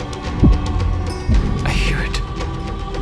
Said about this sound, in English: Finland's heartbeat.